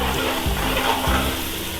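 Shan biryani masala fries in a pan for Sindhi biryani while being mixed, a continuous close sizzle broken by two soft low scrapes of the spoon.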